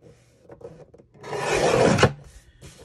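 Scissors trimming the edges of a paper journal tag, a few soft clicks followed by a longer close rasping cut that ends in a sharp snip.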